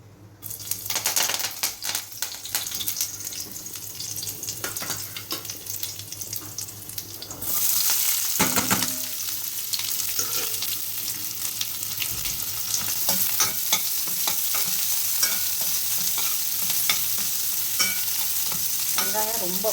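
Oil heating in a separate pan for chilli idli crackles and sizzles steadily, with a brief watery rush partway through and ongoing stirring clatter, growing louder and more continuous toward the end.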